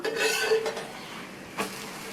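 A flipped paratha cooks in a pan on a medium flame, giving a soft, faint sizzle with a couple of brief scrapes and clinks of a utensil against the pan, and no voices.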